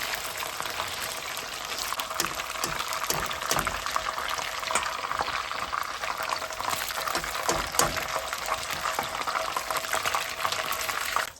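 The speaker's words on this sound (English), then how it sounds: "So I'm just going to shallow fry them for just 2 minutes" Garlic butter chicken pieces shallow frying in a pan on low heat give a steady, crackling sizzle with scattered pops and spits, holding close and even throughout.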